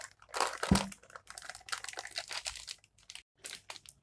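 Crinkling, crackling plastic as a rubber band is stretched around a plastic cover filled with jalebi batter, with a sharp crunch near the start followed by scattered rustles and handling sounds. The sounds are close and there is no talk.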